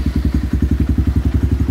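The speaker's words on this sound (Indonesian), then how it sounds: "Kita hidupkan dulu sepeda motornya." A Kawasaki KLX motorcycle engine runs with a loud, close, rapid, even thumping beat, with no talk over it.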